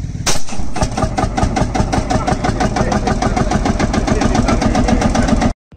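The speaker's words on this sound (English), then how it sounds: "This is a field marshal tractor, and they needed a shotgun shell to start the engine." An old Field Marshall tractor engine is started by a shotgun-shell cartridge, a sharp bang followed by a loud, rapid, evenly pulsing single-cylinder chugging that runs for several seconds and then stops.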